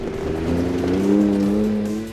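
A custom 2017 Ford Raptor pickup plows through a mud puddle off-road, its engine droning steadily with a low rumble and rushing wash, loud and close for about two seconds.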